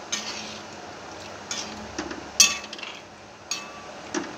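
A spoon stirring simmering masala chole in a pot, with soft scraping swirls punctuated by occasional metallic clinks against the pot's rim over a low bubbling background.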